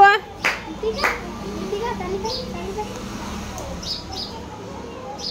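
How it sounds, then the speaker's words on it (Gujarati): Children clap at a birthday party, giving a few scattered sharp claps early on amid lively children's chatter and voices. "આરોહી તાળી પાડો"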